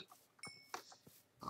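Pig oinks in the video game Minecraft: a few short grunting oinks spaced through a moment of play, quiet and close with no talk over them.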